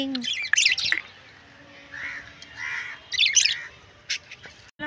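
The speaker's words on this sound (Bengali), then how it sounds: "কিচির মিচির করে যে, কিচির মিচির করে সে।" Birds chirping and squawking in short, bright bursts, a couple of separate calls with quiet gaps between them.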